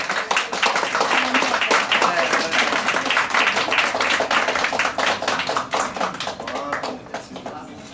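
Audience applause and scattered clapping at a Paris bakery baguette competition, fairly close and dense, fading toward the end, with voices chattering underneath.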